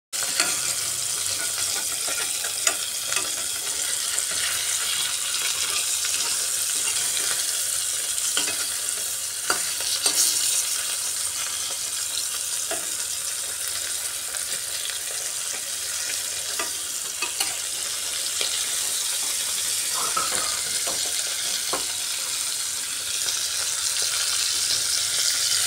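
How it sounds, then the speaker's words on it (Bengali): Tilapia coated in salt and turmeric fries in hot oil, giving a continuous, moderately loud crackling sizzle with scattered pops and light clicks of a utensil, no voices. "এবার এর মধ্যে লবণ আর হলুদ দিয়ে মেখে রাখা তেলাপিয়া মাছটা ভেজে নিচ্ছি।"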